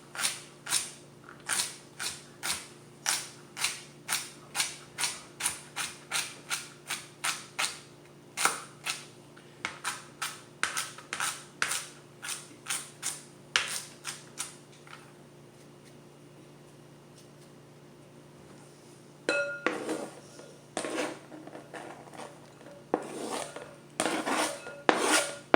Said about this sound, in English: I'm gonna cut it super thin again.